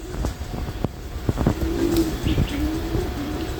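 Farm pigeons gathered around a water dish give low coos amid soft clicks and taps, near and moderately loud, with faint chirps mixed in.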